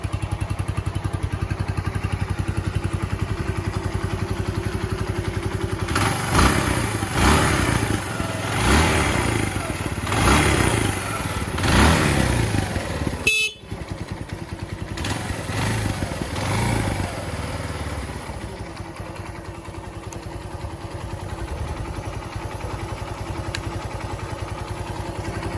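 A Honda TLR200 Reflex trials motorcycle engine runs steadily throughout, with a louder rev-and-clatter stretch midway, a brief cut, then a return to a steady idle-like drone.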